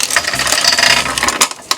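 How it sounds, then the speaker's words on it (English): Motorcycle drive chain being pulled off the sprockets of an old superbike, a close series of rattling, clinking metal links and ratchet-like clicks with a couple of sharper clanks near the end. "Now you can just pull out the chain."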